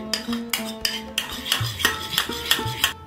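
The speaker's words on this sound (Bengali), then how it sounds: "টক দইটাকে ভালো করে আমি ফেটিয়ে নেব।" Sour yogurt is beaten briskly in a bowl, making about ten quick, evenly spaced clinks of a utensil striking the bowl, close and clear with no talk.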